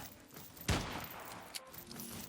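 A single sharp sniper rifle shot in a sci-fi shooter game, loud and close with a lingering tail, followed by a second fainter crack about a second later.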